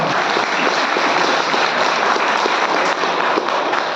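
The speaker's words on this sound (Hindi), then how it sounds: "ताली बजाओ, तालियां बजाओ।" A hall audience at a health talk for cancer patients claps loudly and continuously, a dense, even roar of applause filling all four seconds.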